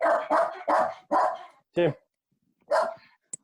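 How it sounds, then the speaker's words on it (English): A dog barks loudly and close in a quick series of about six sharp woofs, then pauses and lets out one more bark, with a brief spoken word mixed in. "Man, shut that dog up."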